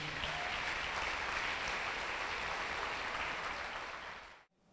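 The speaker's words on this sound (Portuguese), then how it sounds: "Dá mais uma salva de palmas a Jesus." A church congregation gives a sustained round of applause at a worship service. The dense, even clapping holds for about four seconds, then cuts off abruptly.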